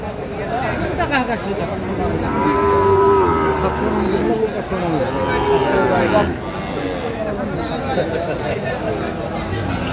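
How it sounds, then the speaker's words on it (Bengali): A Sahiwal bull calf moos at a cattle market in Jatrabari, Dhaka, its drawn-out calls rising over a close, busy crowd and people talking throughout. "শাহিওয়ালের ষাঁড়"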